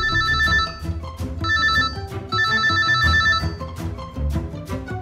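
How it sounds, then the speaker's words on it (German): A cartoon telephone rings in a police animated series, with a repeating bell-like ring in bursts over a steady musical background, loud and close with no talking. "Ja, Handy Andy, am Apparat"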